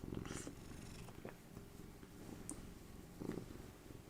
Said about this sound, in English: Beautiful cat.